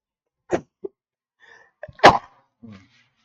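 A few sharp sneezes and sneeze-like bursts, loud and close, separated by silence, with faint small sounds between them and no speech.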